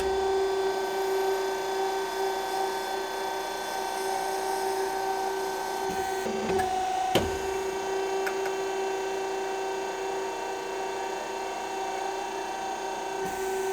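An injection molding machine hums with a steady, tonal mechanical whine while its screw is purged of old plastic and cleaned, with a few brief clicks and knocks along the way and no talking.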